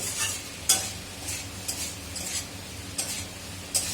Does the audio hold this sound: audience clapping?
no